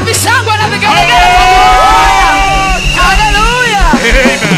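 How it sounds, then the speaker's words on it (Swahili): A church congregation cheers, yells and ululates loudly during a gospel worship song, a close, continuous burst of high trilling voices and shouts over a low musical backing. "Wapi shangwe na vigelegele?"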